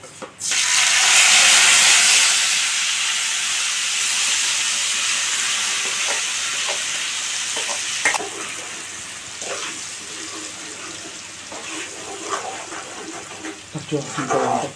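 Spice paste for a brinjal masala curry hits hot oil, giving a loud, sustained broadband sizzle that slowly settles, with stirring clicks and scrapes toward the end.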